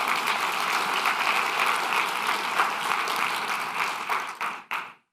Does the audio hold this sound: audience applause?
yes